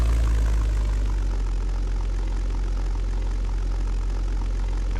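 Propeller engine of a P-51B Mustang in the flight game European Air War drones low and steady on landing approach, a constant close rumble that fades slightly after the first second.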